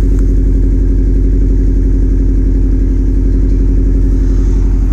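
A 2012 Subaru STI wagon with a Nameless turboback exhaust idles close by, a loud, deep, steady burble with a throbbing low pulse and a slight rattle, unchanging throughout.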